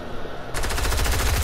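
Video game sniper no-scope shot, with loud rapid gunfire bursting in halfway through and continuing as a dense, close barrage to the end.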